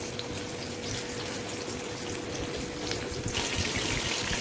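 Chicken wings fry in hot oil with a loud, dense, watery hiss that swells slightly near the end, close and continuous, with no voices.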